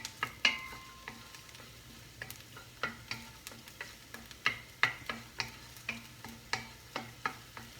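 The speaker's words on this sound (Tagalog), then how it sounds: "Atin pong papupulahin ang bawang para po mabango" Garlic fries in a pan while being cooked for pork kalderetang, with soft sizzling under repeated sharp clicks and scrapes of stirring at an uneven rhythm, close and fairly quiet.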